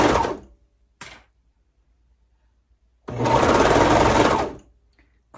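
A serger stitching a seam, with a short burst of motor at the start, a brief blip near one second, then a sustained run of about a second and a half after a pause, close and fairly loud with no talk.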